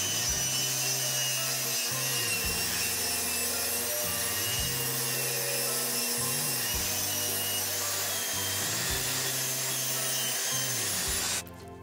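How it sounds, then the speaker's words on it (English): Table saw ripping a wooden board into quarter-inch strips for crates: a continuous loud whine and rasp of the blade cutting along the fence, with a low hum that dips periodically as the board feeds, and no speech. "we're going to rip this board up into 1/4 inch strips."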